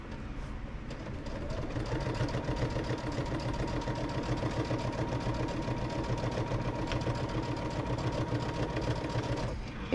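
A sewing machine stitches a seam on a June Tailor shopping tote, running as a steady, continuous close-up whir for nearly the whole stretch with no pauses.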